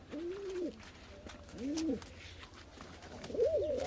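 Pigeons at a loft of fancy breeds, including black- and red-tailed birds, give three distinct cooing bursts, moderately close over a low constant background rumble.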